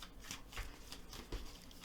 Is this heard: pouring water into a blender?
no